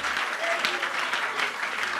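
A church congregation at a prayer service claps hands in a continuous, dense roll, moderately loud and even, with voices murmuring underneath.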